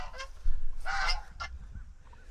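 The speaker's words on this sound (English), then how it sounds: "we have some guard geese" Guard geese on a pastured turkey farm honk in a few loud, close bursts, several sharp calls in quick succession, with no talking.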